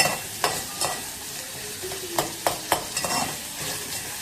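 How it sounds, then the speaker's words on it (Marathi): Sliced onions crisping in hot oil for a vegetable biryani, a soft continuous sizzle broken by sharp clicks of a spoon stirring against the pan. "घेतलेला कांदा उभा चिरून घेतले त्याच्यामध्ये टाकते आणि मस्त खरपूस होईपर्यंत मस्त फ्राय करून घेते"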